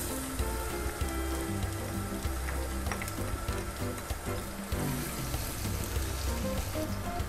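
Garlic sautéing in hot oil for a Kapampangan goto, a dense, continuous sizzle that stays loud and even throughout, with no talk over it.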